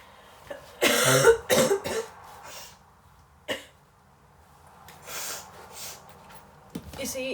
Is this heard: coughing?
yes